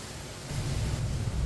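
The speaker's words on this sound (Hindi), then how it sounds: "अब इसमें पानी डाल लेंगे। आप देखें ये 1 गिलास पानी डाला मैंने" About a glass of water is poured into a cooking pot of moong dal khichdi with spices, making a close, rushing splash that swells after a quiet start and keeps flowing steadily.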